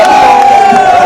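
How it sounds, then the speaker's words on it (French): A jubilant crowd cheering and chanting songs of joy at a community gathering, loud and dense throughout with a sustained tonal voice line above the mass of sound. "en présence d'une foule en liesse scandant des chansons d'allégresse à l'honneur de sa bienfaitrice"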